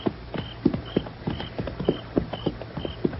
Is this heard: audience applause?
no